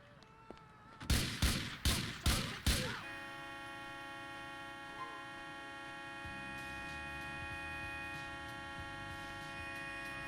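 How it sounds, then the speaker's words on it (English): Four loud, evenly spaced gunshots ring out one after another in GTA Chinatown Wars, each with a sharp crack and short decay, then give way to a steady electronic hum with faint low background noise. "That was some shooting."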